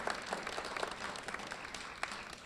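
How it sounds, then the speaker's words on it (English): Meeting audience clapping for the candidates at a neighborhood annual meeting, a short, fairly faint, steady patter of applause from a modest crowd. "I think we ought to give all of our candidates a round of applause"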